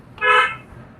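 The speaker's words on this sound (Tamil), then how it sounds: "ஹார்ன் அடிங்க." A single short car horn honk sounds once, clear and fairly close, fading quickly in a driving setting with no talk over it.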